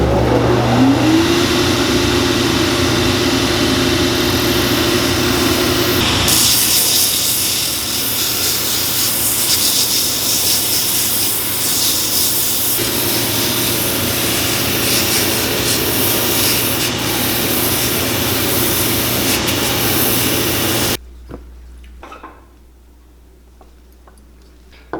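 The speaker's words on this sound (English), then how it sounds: "we are going to sand the tread off of this" Rubber boot soles are ground down to remove the tread, a loud continuous power-sander whine and rasp close by that shifts in pitch as pressure changes, then cuts off abruptly near the end.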